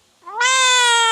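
A house cat lets out a single long, loud, drawn-out meow that rises and holds steady, close to the listener, with no voices around it.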